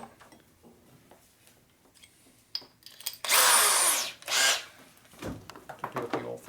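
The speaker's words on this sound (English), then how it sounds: "With power tools." Power tool whirring in a workshop during a 1961 Harley-Davidson FL 74ci panhead motor rebuild, two loud bursts of roughly a second each amid quieter clinks and handling noise.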